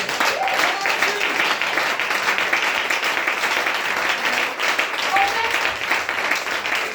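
A church congregation applauding and acclaiming the Lord, with dense, sustained clapping from many hands and voices calling out beneath it throughout.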